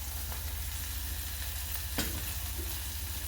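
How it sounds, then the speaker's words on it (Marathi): A pan of sautéing greens for dal methi, with turmeric just added, sizzles in a steady hiss, and one brief scrape of a spoon stirring breaks through near the end. "आणि ह्याला 1 मिनिटभर परतून घ्यायचं."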